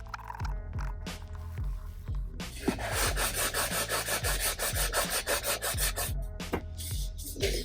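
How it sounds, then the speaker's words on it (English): Steady rhythmic rasping of a sanding block scrubbed back and forth over a gourd, close and fairly loud, in repeated strokes with a few short pauses. "I'm going to use the sanding block"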